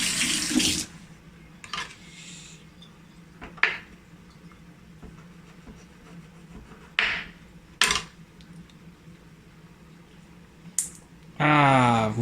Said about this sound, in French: je vais vite fait le rincer à l'eau froide